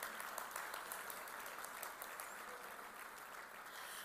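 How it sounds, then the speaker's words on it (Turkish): Sustained, dense applause from an audience at the Eskişehir Başarı Ödülleri 2021 awards ceremony, steady and full throughout without a break. "alkışlarınızla sahneye davet etmek istiyorum"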